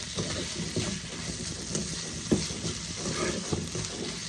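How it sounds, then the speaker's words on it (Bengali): A snack mixture with chopped coriander stirred in a pan, soft continuous sizzling and scraping with occasional louder knocks of the spoon, close and steady, no voices. "আর ধনে পাতা কুচি দিয়ে দিলাম। এবার আরো ভালো করে মিশিয়ে নেব।"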